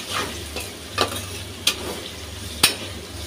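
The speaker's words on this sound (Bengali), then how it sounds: "তো এগুলো একটু ভেজে নিই।" Sliced onions fry in oil in a pan, giving a steady close sizzle with a few sharp scrapes of a stirring spoon, and no talk.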